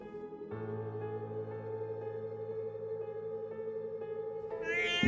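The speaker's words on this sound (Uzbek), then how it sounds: "Bu mushuk edi." A single long, drawn-out cat yowl, steady and tonal for several seconds, rising and sharpening near the end.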